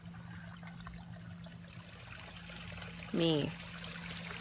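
Water trickles steadily in a backyard pond, a soft, continuous wash of flowing water with a low hum beneath it, briefly interrupted by a single spoken word.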